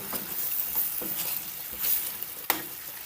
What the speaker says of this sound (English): Giving it a stir.